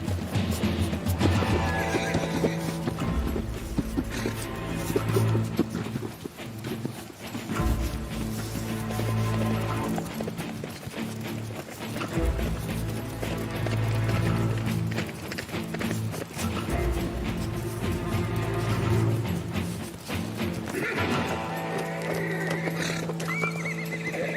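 Horses neigh and whinny repeatedly while hooves clip-clop over rugged ground, a dense, continuous mix of animal calls and hoofbeats with music-like tonal layers running underneath throughout.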